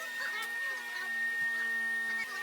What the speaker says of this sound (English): Now it's time to vacuum.